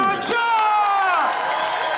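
A crowd cheers and whoops for sailor Charles Caudrelier, winner of the Route du Rhum 2022, loud high shouts and cries rising and falling together close by.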